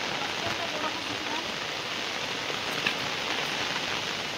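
Steady rain pours down outdoors, a dense unbroken hiss of drops hitting surfaces close by that holds level from start to finish with no voices over it.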